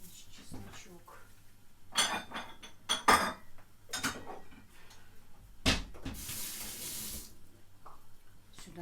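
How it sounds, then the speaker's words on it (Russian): Dishes washed in a kitchen sink, with a tap running in bursts, water splashing, and plates and cutlery clattering nearby. A long stretch of steady running water comes near the end. "я быстро перемою посуду свою"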